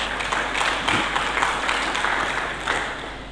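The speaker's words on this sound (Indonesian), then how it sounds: "Berikan tepuk tangan bagi Yesus." Applause from a church congregation for Jesus during a Sunday sermon, a steady, moderately loud wash of many hands clapping that holds evenly throughout with no voices standing out.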